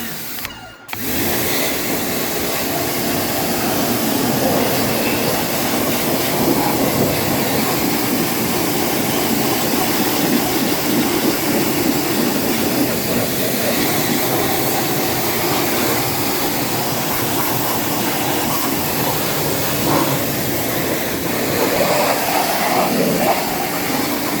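A loud, constant roaring spray of a pressure washer jet cleaning the engine of an Opel Astra G (Z16SE) blasts steadily for a long stretch with little variation.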